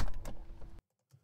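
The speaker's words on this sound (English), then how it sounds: "Kind of sounds more like it's the door opening a bit." A car door mechanism sounds in a sound-design demo, a short close mechanical rattle and clunk lasting under a second, then cutting to near silence with one faint tick.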